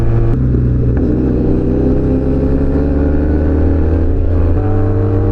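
A loud motorcycle engine pulls hard and close by, its droning pitch stepping up through gears as it accelerates, with no one speaking.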